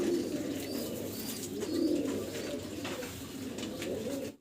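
Pigeons at a pigeon farm cooing softly and steadily, low throaty coos repeating close by with faint background noise.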